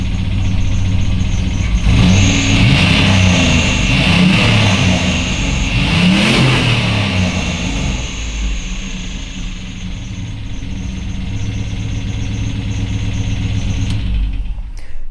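A car engine fitted with an MS3 Megasquirt management system, running a little lean, revs up briefly early on and then settles into a steady, fairly loud idle.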